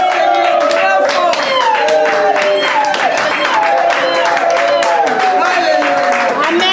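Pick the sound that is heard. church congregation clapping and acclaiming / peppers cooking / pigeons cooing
church congregation clapping and acclaiming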